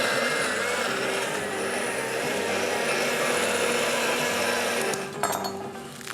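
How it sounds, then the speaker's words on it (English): A blender blending salsa with chilies and lime juice whirs loudly and continuously at high speed for several seconds, then cuts off with a brief clatter at the end. "Let's give this a whirl in the blender."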